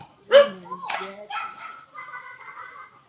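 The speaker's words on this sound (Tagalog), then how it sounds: "May aso dito." A dog barks and yips a few times close by, short sharp calls trailing into whiny notes.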